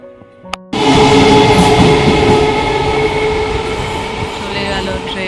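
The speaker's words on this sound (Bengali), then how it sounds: "চলে গেল ট্রেন" A train rumbles past close by, loud and continuous after a brief quieter start, with a steady rolling roar and clattering wheels on the rails.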